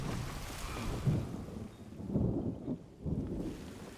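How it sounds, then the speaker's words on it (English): A heavy thunderstorm in House of the Dragon, with a dragon in flight, brings low rolling thunder rumbles swelling over a steady hiss of rain, dense and continuous. "flying through a heavy storm seems like it's insane"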